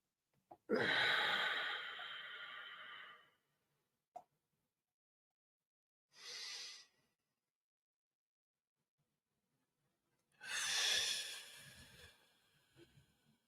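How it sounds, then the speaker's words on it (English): A person breathes deeply, in through the nose and out through the mouth: a long, loud airy exhale, a short breath, then another long breath, each close and separated by silence. "Keep breathing in deep and breathing out long."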